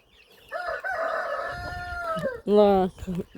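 A rooster crows loudly and close, with hens clucking around it in short bursts; a voice murmurs briefly near the start.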